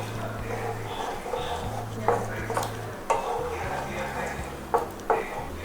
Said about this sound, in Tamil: ஊற்றிட்டு இதை நல்லா மிக்ஸ் பண்ணி விட்ருங்க